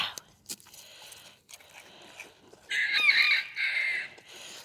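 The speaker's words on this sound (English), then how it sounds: "We hear you, Rooster." Backyard chickens pecking at cracker treats, with soft clucks and pecking sounds, then a loud rooster crow bursting out close by in two strong phrases near the end.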